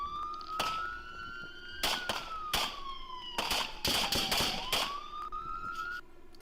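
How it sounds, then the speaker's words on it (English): Sharp broadband gunshot cracks, several in quick succession, fired outside during a police confrontation, sounding loud over a steady wailing siren that glides through the scene. "Shots fired!"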